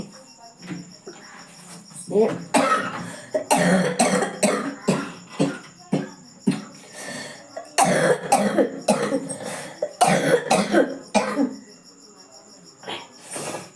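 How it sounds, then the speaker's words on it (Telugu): Repeated fits of harsh coughing, several bursts close together with short pauses, over a constant high insect-like chirring. "దగ్గు చాలా ఎక్కువ వచ్చేస్తుందండి."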